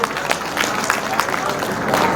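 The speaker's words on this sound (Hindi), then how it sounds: "एक बार जोरदार तालियां बजाइए।" Dense, steady applause from a large crowd at a Hindi poetry gathering in Unnao fills the space, with voices blending into the noise.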